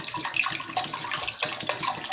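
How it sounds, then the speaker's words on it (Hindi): Cold water pours into a kitchen bowl in a close, steady splashing stream that lasts a couple of seconds, with no voices. "अब मैं इसमें ठंडा पानी डाल रही हूँ।"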